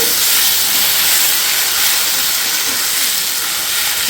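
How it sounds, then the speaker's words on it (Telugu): Chunks of potato fry in a pan for a fenugreek potato curry, giving a loud, dense, continuous hissing sizzle that stays steady throughout, close up and with no talking. "కొంచెం ఫ్రై అయిపోయిందండి ఇప్పుడు పొటాటోస్ వేసుకున్నాం మనము"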